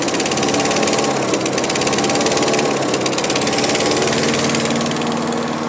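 A Dennis Lee free energy engine with no exhaust runs steadily, a loud close mechanical drone with a fast even pulse and rattling knock throughout.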